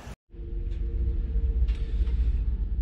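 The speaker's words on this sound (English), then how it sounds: "The burble on it and the exhaust note is just right." Deep, steady exhaust rumble from an LS3 V8 swapped into a Saturn Sky, a loud low-pitched drone with a throbbing burble that runs continuously after a brief cutout at the start, with no talking.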